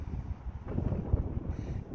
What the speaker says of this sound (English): As you can see, it's pretty windy today.